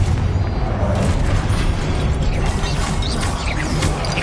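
A Confringo fire spell explodes in Hogwarts Legacy amid a spell-casting fight among statues, giving a dense, loud, continuous blast and crackle that rumbles on for several seconds without a break.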